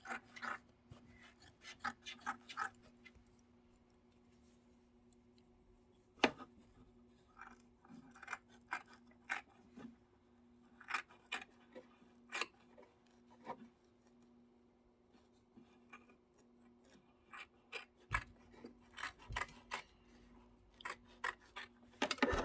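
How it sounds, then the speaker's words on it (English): Scissors snip away excess quilting fabric from an embroidery hoop, making a string of short, close, crisp cuts in irregular bursts over a steady faint machine hum, with no talking. "Go ahead and trim away the excess."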